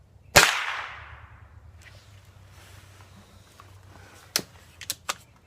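A Gamo Whisper Fusion Elite air rifle fires a supersonic Gamo ballistic tip pellet with one loud, sharp crack that rings out and fades, followed by a few fainter clicks and knocks of handling later.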